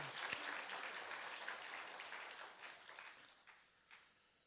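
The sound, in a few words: church congregation applause of thanks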